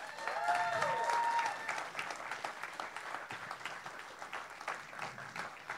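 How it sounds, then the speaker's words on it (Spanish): Graduates at a school graduation ceremony in Arecibo, Puerto Rico clap for themselves, a full, sustained round of crowd applause with a brief whistle-like tone near the start. "yo quiero que ustedes se aplaudan ustedes mismos"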